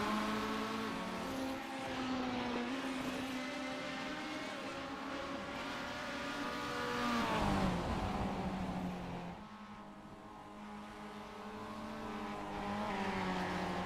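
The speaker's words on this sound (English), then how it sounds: "As we watch the Mazdas go around the 808 of Ian Erasmus with Nick Kuhn in the 19 behind him" Mazda race cars lap Tsukuba circuit, a continuous droning engine note rising and falling as cars accelerate, shift and pass, with a louder surge midway and occasional tyre noise.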